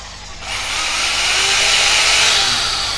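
A 700W Japanese-market electric drill runs in normal drilling mode, spinning up after a moment and then holding a loud, steady high-pitched whine close by.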